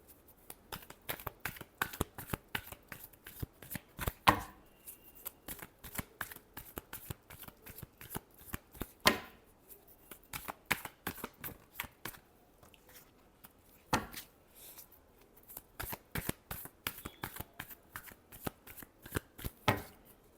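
A deck of tarot cards is shuffled continuously by hand, producing dense riffling flicks and soft slaps in quick repeated bursts, close and fairly quiet, with brief pauses between rounds.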